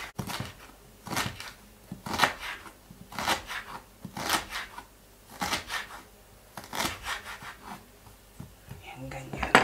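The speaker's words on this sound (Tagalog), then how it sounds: "Hiwa tayo ng luya. Maliit lang na kutsilyo gamit ko." A small knife cuts ginger root in a run of crisp, rhythmic slices and taps, close and fairly quiet, with soft speech between the cuts.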